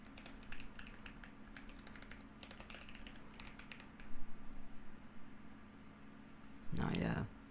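A computer keyboard being typed on during game engine coding, with scattered bursts of light clicking keystrokes, quiet and intermittent, and a person talking briefly near the end.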